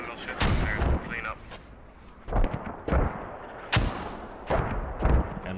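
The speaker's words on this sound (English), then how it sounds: "And mortars all over the place." Mortar fire during a multiplayer match of a combat game, a rapid series of sharp, booming impacts at irregular intervals with a voice talking over them.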